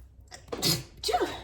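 A single sharp sneeze, close and loud, with a short inhale before the burst.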